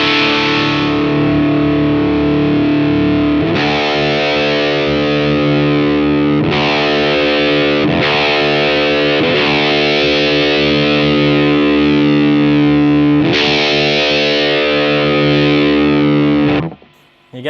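Electric guitar pushed through an Abasi Pathos distortion pedal, long sustained saturated chords, heavily distorted and loud, changing every few seconds before cutting off near the end.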